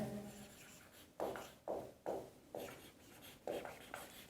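Chalk or pen strokes write equations during a physics lesson on wave optics, a run of about seven distinct scratching strokes at an uneven rhythm, close and clear with no talk.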